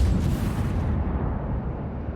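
A tank-destroyer-style armored vehicle's gun fires on a proving ground in the game Armored Warfare: one heavy booming blast that rolls off into a long, low rumbling decay.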